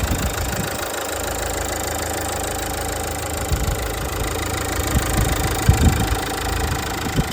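The diesel dCi engine of a Renault Captur idles steadily, a loud, close, even clatter with a constant hum and a few small bumps in level, without any talking.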